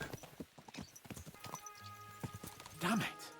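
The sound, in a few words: horses' hooves galloping, from the video game Kingdom Come: Deliverance 2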